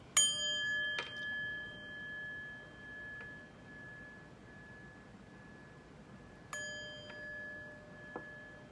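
A chime is struck twice, several seconds apart, each time ringing out with bright, sustained metallic tones that slowly fade in a quiet room.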